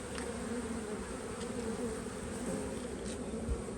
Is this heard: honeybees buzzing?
yes